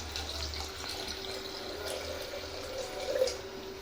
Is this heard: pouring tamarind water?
yes